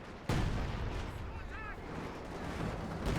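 Artillery barrage in a real-time strategy video game: a sudden loud blast opens, followed by a dense rumbling wash of distant shelling and explosions, with faint voices in the background.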